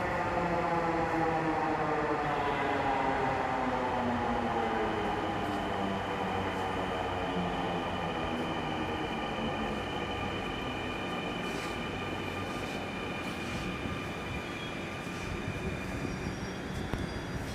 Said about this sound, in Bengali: উত্তরগামী মেট্রো রেলটি কিছুক্ষণের মধ্যেই আমাদের স্টেশনে এসে উপস্থিত হয়।